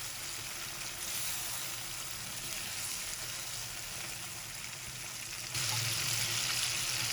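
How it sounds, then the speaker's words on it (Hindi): Chicken browning in spice masala for a shahi degi korma, a steady close sizzle and fry that grows louder near the end, with no talking. "मसाले के साथ चिकन पकाते हुए।"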